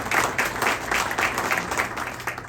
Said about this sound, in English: please join me in giving a round of applause to my friend and colleague